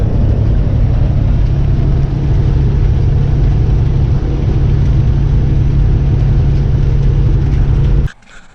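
A truck engine rumbles steadily and loudly from inside the cab while driving, a constant low drone that cuts off abruptly near the end.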